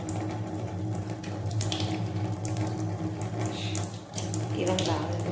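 Hands being washed under a running tap, a steady close rush of water with splashing and hand rubbing throughout, while someone talks faintly in the background.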